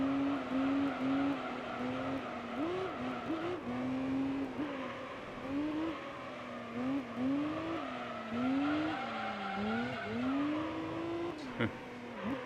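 Racing car in Gran Turismo 3 drifting through corners, with a steady engine drone and repeated rising-and-falling pitch sweeps from revving and tire squeal, plus a sharp brief burst near the end.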